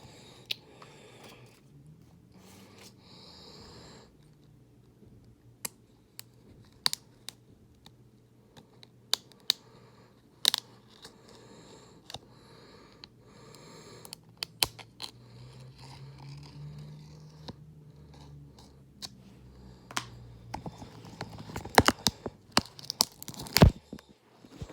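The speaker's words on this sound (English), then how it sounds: "So I'm gonna cut these open." Plastic wrapping on a Pokémon game package is cut and peeled open, giving sparse, faint crinkles and snips that grow into a denser burst of tearing and rustling near the end, with no talking.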